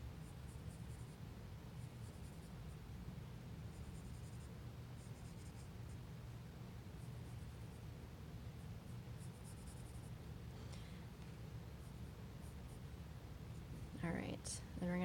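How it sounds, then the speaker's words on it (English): A pen or pencil draws triangles and lines on paper, a faint, steady scratching close by with short bursts of stroke noise, and a louder rustle at the end. "Then we're gonna draw some triangles that come out of the corner."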